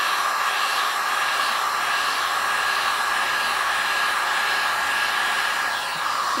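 A heat gun blows steadily on a Worbla thermoplastic armour piece, giving a constant loud airy hiss with a faint tonal whine, unbroken and close for the whole stretch with no talk.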